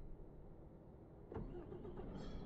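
Mercedes MP5 truck engine starting in Euro Truck Simulator 2, a quiet hum then a sudden crank and catch settling into a steady low idle, alone without talk.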